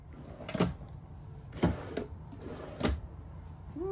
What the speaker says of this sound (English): Ooh, soft closed drawers.